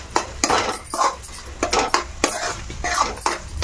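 A spoon stirs sweet pongal with cashews and raisins in a metal pot, making repeated close scraping clanks in an uneven rhythm, loud and without talk.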